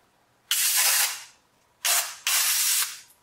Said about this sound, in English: The very first thing we're going to do is spray everything down